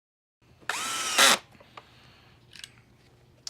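A power screwdriver drives specialty screws into a SEBO E3 vacuum cleaner during repair, giving one short, loud whirring burst followed by faint clicks and handling noises.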